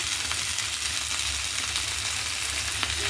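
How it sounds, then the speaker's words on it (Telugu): Coconut pieces fry lightly in hot oil for a chutney, giving a steady, close sizzle with fine crackling and no voices. "కొబ్బరికాయ ముక్కలు కూడా లైట్గా వేయించాలండి ఎక్కువ రోస్ట్గా వేయించకూడదు"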